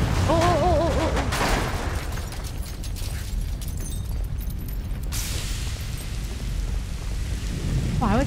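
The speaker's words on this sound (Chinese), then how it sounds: "哇，还会启动洒水设备。" A sprinkler system switches on in a PC horror video game, giving a hissing spray of water like steady rain. A voice is heard briefly at the start and again at the end.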